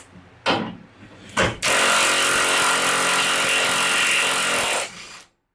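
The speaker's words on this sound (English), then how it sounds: "We can finish the rest up with the gun." A pneumatic impact gun takes out the bed bolts on a Tacoma pickup. Two short bursts come first, then a long, loud, continuous whir-rattle lasting about three seconds before it winds down, all close by with no talking.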